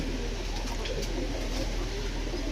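A pair of Rajshahi Giribaz pigeons coo softly over a steady background hum, the calls brief and low in level.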